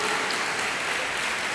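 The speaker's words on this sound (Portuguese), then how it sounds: "Pode aplaudir, se vai aplaudir, aplaude direito e aplaude Jesus." Congregation clapping in a church service, a dense continuous wash of many hands applauding together at steady moderate loudness, with no speech over it.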